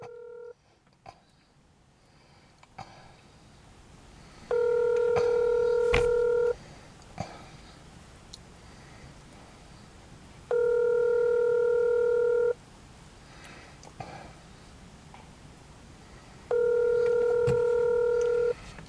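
Telephone tones sound over a quiet line. Three steady electronic tone bursts of about two seconds each repeat at even intervals, separated by faint background noise.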